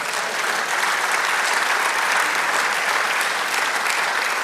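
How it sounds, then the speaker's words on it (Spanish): Congregation at a church service applauding for the Lord, a steady, dense wash of clapping from many hands that holds evenly for several seconds with no voices over it. "Denle un aplauso al Señor."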